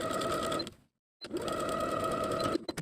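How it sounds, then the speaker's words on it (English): Close, rapid mechanical whirring of a sewing machine stitching a waistband onto the top of a pant, in two bursts separated by a brief silent stop. "Sew the waistband to the top of the pant with a 5/8 inch seam allowance."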